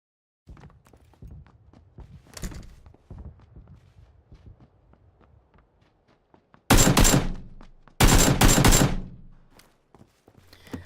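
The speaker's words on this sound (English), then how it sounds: "there could be someone who could run towards that gunshot and essentially take me out while looting" PUBG gunfire cracks out in two loud, sustained bursts near the end, preceded by quieter scattered footsteps and small thuds.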